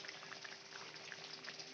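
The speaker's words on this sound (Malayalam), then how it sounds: "നല്ലതായിട്ട് തിളക്കുന്നുണ്ട്." A tuna fish curry bubbles in a pot at a steady, quiet simmer, with soft continuous popping and no voices.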